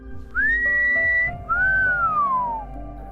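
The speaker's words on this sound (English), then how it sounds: "sound of woman whistling can be heard" Woman whistling two long, eerie sliding notes, the first rising and held, the second arching and falling slowly, close and clear over a faint low hum.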